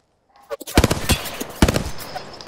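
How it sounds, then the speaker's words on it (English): Bursts of enemy automatic gunfire in the shooter game Apex Legends, rapid cracking shots in a dense volley after a brief lead-in, loud and close. "Enemies are shooting at me"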